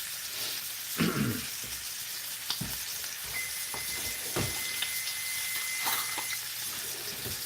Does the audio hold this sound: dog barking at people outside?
no